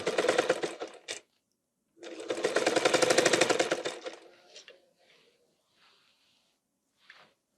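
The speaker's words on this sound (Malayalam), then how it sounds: "ഇനി നമുക്ക് സ്റ്റിച്ച് ചെയ്യാം." A sewing machine stitching a petticoat seam in two close, rapid whirring runs, the first short and the second longer, followed by faint clicks and fabric handling.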